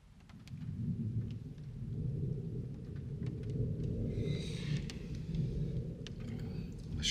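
Thunderstorm rolling in at night around a parked camping truck, a steady low rumble of thunder with rain beginning to patter, continuous and fairly close, with no talking.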